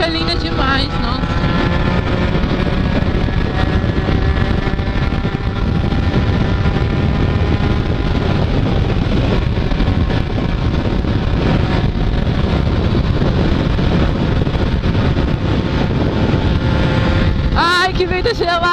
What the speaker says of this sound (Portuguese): E pensa num vento forte nessa ponte.